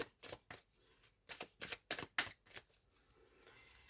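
Tarot cards being shuffled by hand, a quick series of soft, close riffling flicks and slaps in an irregular rhythm, fading out toward the end.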